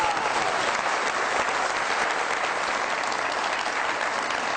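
A studio audience on a Pakistani late-night comedy talk show applauds the arrival of a singer. The clapping is thick and continuous, holding at an even, fairly loud level for several seconds with no talking.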